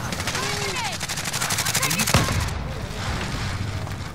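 Rapid automatic gunfire rattles without a break in Call of Duty Modern Warfare, loud and close, under a constant din of battle, with one heavier crack near the middle before the firing thins out.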